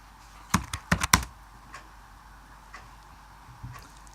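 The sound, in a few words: typing code on a computer keyboard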